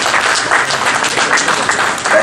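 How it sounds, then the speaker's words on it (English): Dense, steady applause from an audience at the opening ceremony of a private placement in Nigeria, with many hands clapping together at close range and loud throughout. "I think we deserve an applause."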